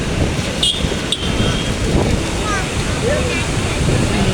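Strong wind roars and buffets the microphone continuously at Mukkombu dam near Tiruchirappalli, with a low, rumbling broadband rush; faint voices can be heard beneath it.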